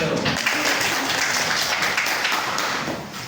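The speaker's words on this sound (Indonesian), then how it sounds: "Beri aplaus" Students in a classroom give a dense burst of applause for three classmates at the front, many hands clapping loudly and steadily for about three seconds before easing off slightly at the end.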